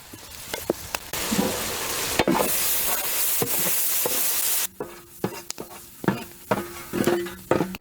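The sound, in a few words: chopped tomatoes frying in pot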